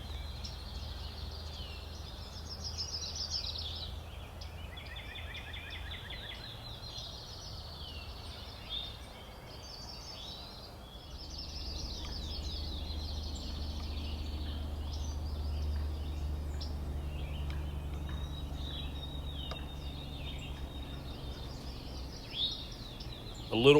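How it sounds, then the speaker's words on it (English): Wild turkeys calling in open spring timber, a hen down over a hill and two gobblers, with faint distant yelps and bird chatter over a low, steady outdoor rumble. "I heard a hen calling down over the hill, and these two gobblers began to make their way"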